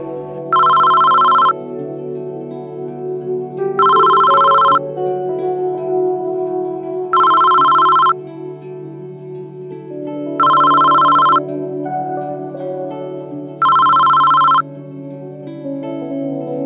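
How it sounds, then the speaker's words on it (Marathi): A mobile phone ringtone rings loud and close in five evenly spaced bursts over a steady low hum, with no talk. "राजे, हा जरा बघ रे कॉल कुणाचा येतोय."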